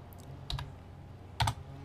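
Keys tapped on a computer keyboard while writing VBA macro code, a few sparse clicks in two small clusters over a quiet steady background hum.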